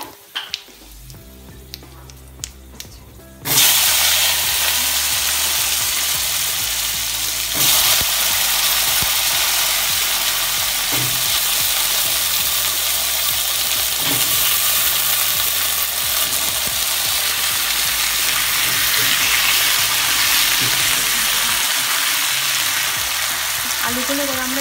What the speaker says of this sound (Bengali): এবার দেবো একটু আলু, আলুগুলো ভেজে নেবো